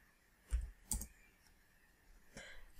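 A few sharp computer mouse clicks, spaced apart and close up, while modelling a kitchen in SketchUp Pro, with no talking.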